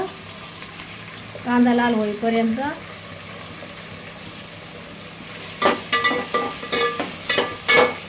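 Onion frying in a pan, a soft background sizzle. A short burst of voice comes early, and clattering stirring noises follow near the end.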